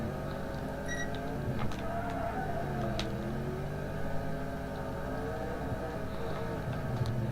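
An Outlaw 8s race car engine in a racing game runs steadily through laps, a continuous droning whine that rises and falls gently with throttle, moderately loud, with no talking.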